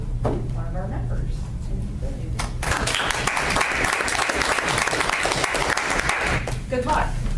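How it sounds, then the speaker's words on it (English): A round of applause fills a committee meeting room, dense steady clapping from a group that starts suddenly and carries on for several seconds, with some voices talking at the start. "I guess a round of applause"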